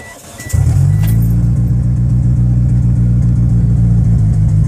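A second-generation DSM car engine with an open downpipe and no exhaust system cranks and fires up, then settles into a loud, rough, throaty idle with a deep rumbling pulse, close by.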